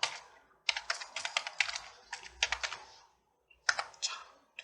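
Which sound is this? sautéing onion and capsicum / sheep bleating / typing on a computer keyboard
typing on a computer keyboard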